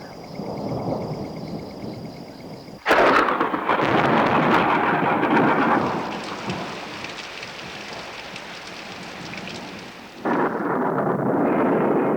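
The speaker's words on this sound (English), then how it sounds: "Eventually, the storm breaks, shattering the stillness of the night." A heavy night thunderstorm over a Hong Kong marsh with steady pouring rain, broken by a sudden loud crack of thunder and a rumbling roll that fades back into the downpour.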